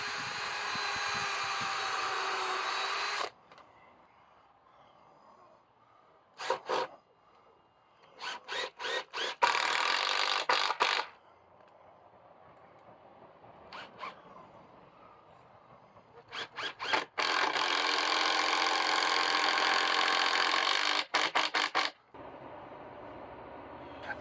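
A power driver sinks screws through wire mesh into a wooden duck and chicken house, giving several sustained whirring runs and brief stuttering spurts, with quiet gaps in between.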